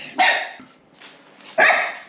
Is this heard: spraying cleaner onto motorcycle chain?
no